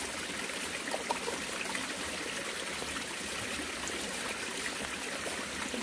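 Water runs steadily from a tap over carrots being washed during cold weather, a constant close hiss and splash with no pauses and no talking.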